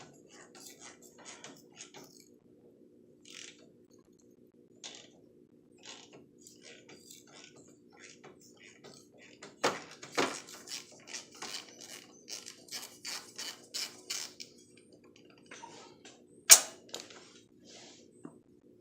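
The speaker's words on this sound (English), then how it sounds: "take your socket and ratchet and slide it over the spark plug and loosen" Socket and ratchet loosening a spark plug, giving a series of quiet mechanical clicks and creaks that build into a denser burst of ratcheting near the middle, with one sharp snap toward the end. Close and fairly soft, with no talk.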